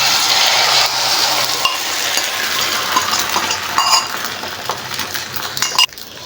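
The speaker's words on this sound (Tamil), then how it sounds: "இப்போது ரெண்டாவது ஆம்லேட்டுக்கு கொஞ்சம் லைட்டாக எண்ணெய் ஊற்றிடலாம்" An omelette frying in oil in a pan gives a steady, close sizzle throughout, broken by a few light metallic clinks and scraping stirs.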